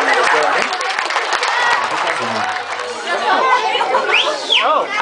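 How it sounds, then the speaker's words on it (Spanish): Wedding guests applaud and cheer at a Mexican-style celebration, loud clapping mixed with crowd chatter and a rising whistle near the end. "Ahí todos los días se lleven el aplauso"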